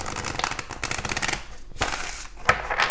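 Rapid fluttering riffle of tarot cards being shuffled, a dense run of crisp clicks, a brief pause, then another shorter burst.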